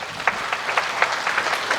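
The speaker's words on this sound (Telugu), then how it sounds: "గట్టిగా చప్పట్లు కొట్టి" An audience claps together, the individual claps clearly separated in a loose, uneven rhythm over a brief stretch.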